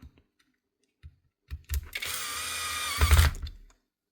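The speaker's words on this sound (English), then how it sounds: "Screw these down now, 2 screws" Power tool repair on a DeWalt, Makita or Bosch tool: a few faint clicks, then a close burst of a small electric screwdriver running about two seconds as screws are driven down, ending with a louder clunk.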